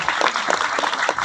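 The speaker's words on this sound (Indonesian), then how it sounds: "Beri tepuk tangan kepada pondok pesantren." Applause for an Islamic boarding school from an audience at a religious lecture, a burst of scattered clapping with uneven rhythmic peaks, moderately loud and close.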